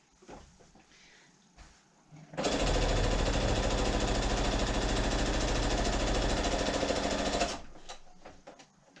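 Sewing machine stitching a quilt, starting up and running steadily at high speed for about five seconds, loud and close, with quiet handling noises before and after.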